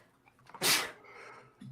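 A single sharp, bright burst of breath, like a sneeze, bursts out once against quiet room noise, then fades to a low murmur.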